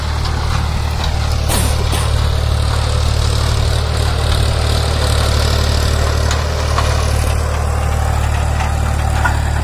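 Powertrac Euro 439 DS tractor engine idling, a steady loud low diesel rumble that holds unchanged for the whole stretch with no voices over it.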